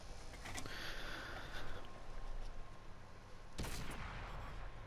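A tank gun fires in World of Tanks: a single sharp, loud blast stands out against a steady background rumble of game ambience, with a smaller crack heard earlier.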